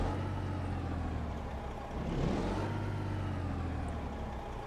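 A truck engine drones steadily in American Truck Simulator as the rig drives along, a low, constant rumble with a slight swell in the middle, moderately faint and with no talk.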